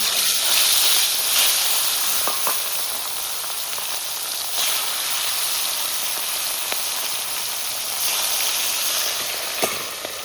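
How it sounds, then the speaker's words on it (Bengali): Boal fish frying in mustard oil in a wok, giving a steady loud sizzle and hiss with scattered sharp spatters and pops and no talk. "বোয়াল মাছ ভাজলে ভীষণ ফাটে"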